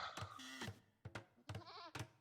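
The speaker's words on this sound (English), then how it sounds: "Goat, pretty decent." A goat bleats in Age of Empires II, four short, quiet wavering calls in a row.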